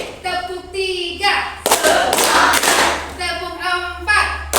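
A group of people clap in unison three times, sharp bursts of close, loud hand claps set between stretches of spoken instructions, during a classroom ice-breaking game.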